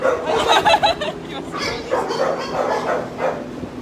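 Buddy, a quarantine dog at a county animal shelter, yips, barks and whimpers in bursts close by, with fainter sounds trailing off.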